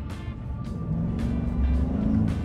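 GMC Sierra V8 pickup truck engine building into a steady, rising roar as it accelerates on a road near Los Angeles, loud and continuous with no voices.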